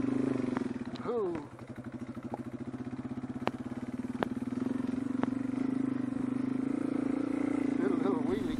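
A Yamaha TW200 motorcycle climbing a rocky off-road slope, its engine thumping steadily and revving with rising pitch, with clattering knocks from the terrain and a rider's voice speaking over it.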